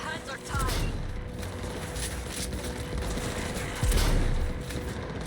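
Tier 1 sniper rifle fire in the video game Cyberpunk 2077, a few booming shots over a continuous dense din of in-game combat noise, with loud bursts near the start and again around the four-second mark.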